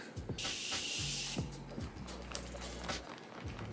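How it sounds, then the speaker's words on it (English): A face mist spray bottle gives one short hiss, then more soft spritzes follow amid low rumbling and shuffling sounds. "let me spray my face real quick"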